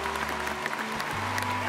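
A crowd at an Oakland University graduation ceremony gives a standing ovation, with dense, continuous clapping throughout over faint sustained music.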